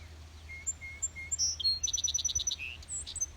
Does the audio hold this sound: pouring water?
no